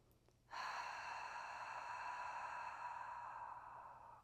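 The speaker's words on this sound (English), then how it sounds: "This audible oceanic breath with a slight restriction in the back of the throat is your" A single long, steady Ujjayi breath drawn through a slightly restricted throat, a soft oceanic hiss beginning after a brief pause and holding evenly, close and quiet.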